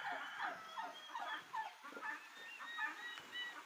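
Turkeys bred on a farm call in a busy cluster of overlapping gobbles and honking cries, quiet and somewhat distant, with no talk.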